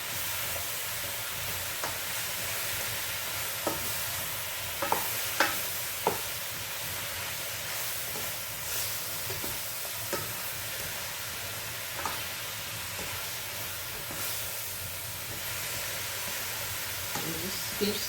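Yellow squash and zucchini cooking in a pan, a faint continuous sizzle with intermittent spoon scrapes and light taps as the vegetables are stirred.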